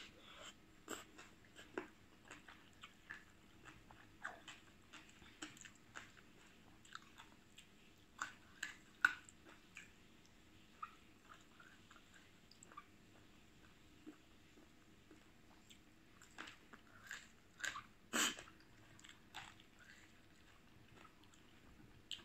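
Papaya salad with pickled crab, bought at a market in Khon Kaen, being chewed indoors at home: soft wet chewing and smacking in an irregular run of close clicks and bites over a quiet room, with no talk.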